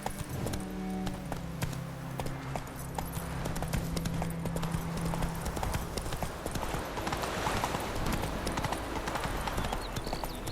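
A horse gallops across open fields in The Witcher 3: Wild Hunt, a fast steady patter of hoofbeats under music and game ambience, with a brief low tone near the start.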